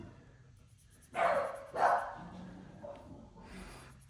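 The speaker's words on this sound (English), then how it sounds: "I'm so sorry if you guys can hear my dogs barking." A few dog barks from somewhere off in the distance, two louder woofs close together and then fainter ones, with no talking.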